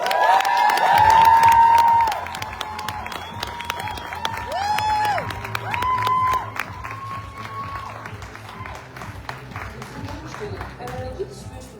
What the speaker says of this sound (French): si vous voulez applaudir bien fort, Julie Prévost.